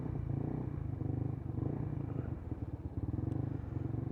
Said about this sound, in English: Absolute monstrous machine. GTR bike.